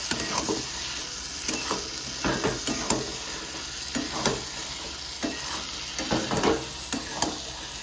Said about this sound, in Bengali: ভালো করে মিশিয়ে নেব লতির সাথে মশলাটাকে